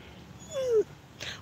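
A dog gives a single short whimper, a thin descending whine lasting under half a second, close and fairly quiet, followed by a faint rustle.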